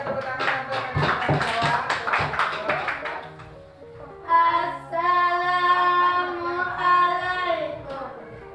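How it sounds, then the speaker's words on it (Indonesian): A classroom group bursts into a few seconds of brisk clapping, close and fairly loud, which fades before someone begins speaking. "kita berikan tepuk tangan untuk menjawab"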